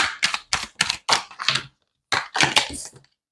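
An oracle card deck is handled as a card is drawn, giving a run of sharp, close clacking bursts, a short pause, then a few more quick clicks.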